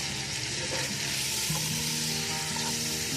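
Vinegar and soy sauce hit a hot pan of chicken vegetable macaroni, producing a loud, steady, close sizzle with faint stirring scrapes throughout.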